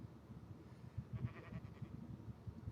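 Sheep in a video game bleat faintly a few times, soft and distant beneath a murky low background rumble.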